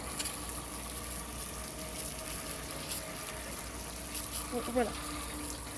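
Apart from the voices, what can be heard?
shower running water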